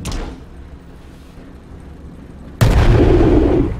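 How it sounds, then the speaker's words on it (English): A ship's cannon in Worlds Adrift fires with a sudden heavy boom after a stretch of low rumbling ambience, the blast ringing out loud and sustained to the end. "I don't know where your cannonball's going either."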